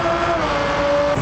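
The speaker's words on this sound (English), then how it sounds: "Huracan Performante." Lamborghini Huracan Performante in BeamNG.drive, its engine a steady loud drone held at constant revs with a clear tonal whine running throughout.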